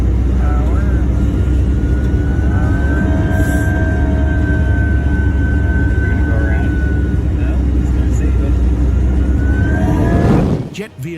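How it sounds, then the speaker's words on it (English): A commercial airliner's engine drones loudly and steadily during a stormy landing approach through strong crosswinds, a constant roar with a faint sustained whine, ending abruptly with a brief rushing sweep. "A commercial airliner fights strong crosswinds while attempting a tricky landing."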